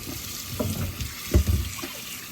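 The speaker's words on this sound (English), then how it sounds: "Wash them with some warm water." Vegetables are washed under a kitchen tap running warm water, a steady faint stream with a few louder splashes and clunks as they are handled.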